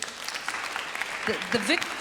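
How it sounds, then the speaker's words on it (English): Scattered audience applause with brief clapping under a speaking voice in a conversation hall, fairly faint and uneven. "We should applaud that victory."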